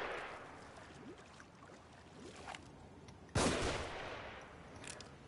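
Enemies fire guns in The Evil Within, with scattered distant shots early, then a sudden loud close blast, followed by a lingering rumbling echo and a few more faint shots.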